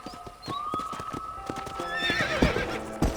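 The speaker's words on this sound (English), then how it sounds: "let's see if you can still ride a horse" Hoofbeats clip-clop at a walking pace from a horse on a ranch in the video game Red Dead Redemption, with a drawn-out neigh rising near the end, all close and fairly loud with no talk over it.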